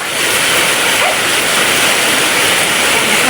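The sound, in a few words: heavy rain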